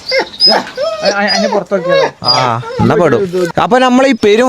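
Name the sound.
dog whimpering, sounding like chicks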